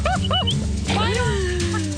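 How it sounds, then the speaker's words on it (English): A pack of St. Bernard dogs at an off-grid homestead about an hour from Vancouver, yipping and whimpering in close, rising and falling calls over steady background noise, with people talking. "Oh, that's a lot of dogs."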